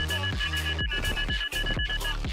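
Sonar beeping in the Xonotic video game, a steady high tone that pulses repeatedly across the clip, sitting over loud, busy game sound and music throughout.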